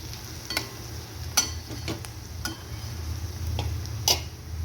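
Onion with turmeric and salt sautés in a pan, a continuous low sizzle under intermittent spatula clicks and scrapes against the metal, close by and without voices.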